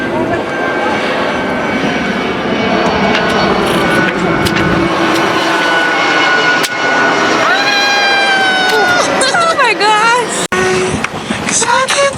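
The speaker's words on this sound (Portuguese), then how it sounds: "O avião passando por cima da gente porque o aeroporto tá aqui pertinho" An airplane roars low overhead near an airport, heard from a boat, a loud sustained engine rush with a rising whine, while people talk throughout.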